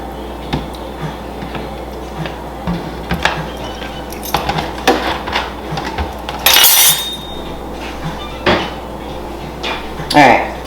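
A utensil stirs vinegar into buttermilk ranch dressing in a bowl, making a series of quick clinks and knocks against the dish with soft scraping between them.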